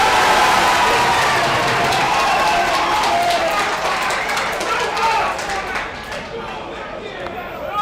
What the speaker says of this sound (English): No doubt you can hear there's a great crowd here